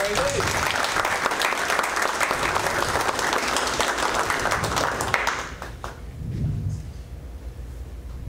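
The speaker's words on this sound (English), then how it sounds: "So I'd like to give him a round of applause." Field day crowd gives the cook a loud round of applause for the barbecue, steady dense clapping for about five seconds that then fades out, with a few voices and murmurs underneath.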